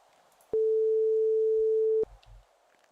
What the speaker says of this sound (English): All right, let's call Mike back